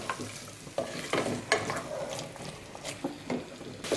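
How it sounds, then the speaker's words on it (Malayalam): Soaked chickpeas are stirred into masala in a pan, with a spoon scraping and turning them in irregular bursts over a quiet sizzle from the pan. "നന്നായിട്ട് ഇതൊന്ന് മിക്സ് ചെയ്തെടുക്കാം"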